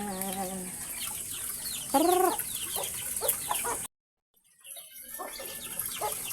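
Chickens cluck and chatter close by in a busy flock, with a louder squawk midway; the sound cuts out briefly, then the clucking resumes.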